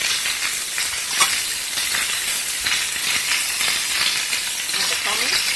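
Garlic sizzles loudly in a hot pan while being stirred, a continuous close frying hiss broken by scraping strokes of the utensil against the pan at irregular intervals.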